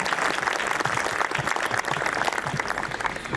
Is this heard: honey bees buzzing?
no